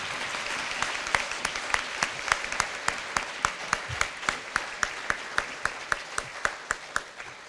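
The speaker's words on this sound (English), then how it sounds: "a final round of applause." A crowd at a district spelling bee applauds its fourth graders, with steady, dense clapping and evenly spaced sharp claps standing out, sustained for the full duration without talk.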